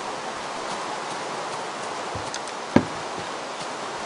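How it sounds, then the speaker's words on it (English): Rain pouring steadily in Minecraft, a smooth even hiss with occasional soft taps and one brief sharp knock partway through, no speech over it. "I need to get out of this rain."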